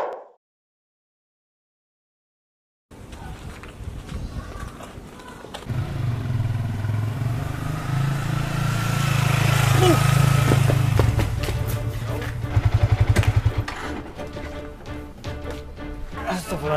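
A motorcycle engine drones along a street, rising as it draws near and holding a low rumble for several seconds before fading, with voices talking over it.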